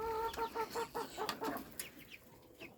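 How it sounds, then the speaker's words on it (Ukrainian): Several backyard hens cluck and chatter in quick bursts close by, with higher calls mixed in as the flock gathers in a rural yard in the morning. "Всі позбігалися сразу курочки."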